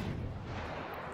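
Tashkent warship in World of Warships firing a salvo of shells at a burning battleship, a dense rumbling boom with no gap across the whole short span.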